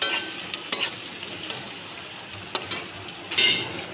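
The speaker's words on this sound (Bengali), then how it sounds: "দেখুন ভাজা হয়ে গেছে পেঁয়াজটা" Chopped onion and chili frying in a pan: a close, steady sizzle with several sharp spatula clinks and scrapes against the metal at irregular intervals, no voices.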